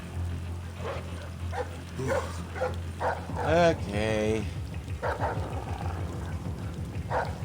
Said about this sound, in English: Here we go again with the bloomin' dog.